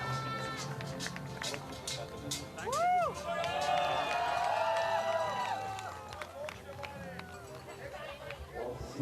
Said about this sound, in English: listen to the reception from the home crowd